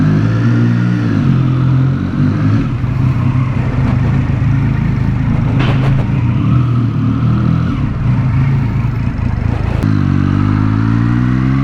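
A warmed-up motorcycle engine running steadily while being ridden, a loud close drone with a constant low rumble, slight shifts in pitch and a few clattering spikes.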